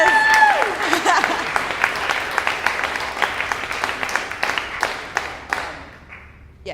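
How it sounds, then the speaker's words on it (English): An audience applauds after a woman sings a song, with dense, steady clapping that thins and fades out over several seconds. "Should we just give her a round of applause?"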